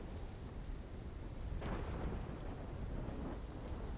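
Thunderstorm in the video game Black Ops 3: steady rain hiss with a low rolling rumble of thunder building midway, heard alone without voices.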